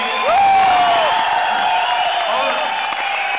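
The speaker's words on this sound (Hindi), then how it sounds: "एक बार जोरदार तालियां आपके अपनी एकेडमी के लिए।" Audience at an academy's annual function breaking into applause and cheering, a dense wash of clapping with whoops rising over it, loud and near, with voices mixed in.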